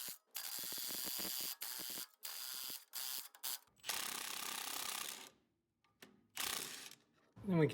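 A ratchet wrench works on the front upper control arm nut of a 1998-2003 Acura TL/CL or Honda Accord, giving close, loud bursts of rapid clicking and whirring separated by short silences, with a final clunk.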